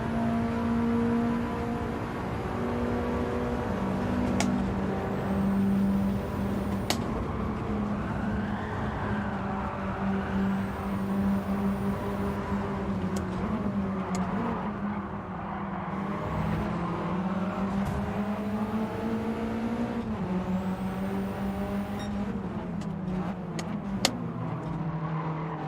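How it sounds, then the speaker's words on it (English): A car fitted with a tuned P2 performance exhaust in Gran Turismo 7 drones steadily at high revs, its pitch rising and falling through shifts and turns, with brief tire squeals and no voices. "They've tuned it with the exhaust. It won't make any difference to the performance, but you can hear the noise of it."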